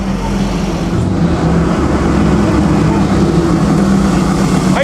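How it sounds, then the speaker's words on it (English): A Ferrari on the road during the 2007 Mille Miglia, a loud, sustained engine rumble close by that holds steady over the whole stretch amid traffic noise. "Here's another Ferrari."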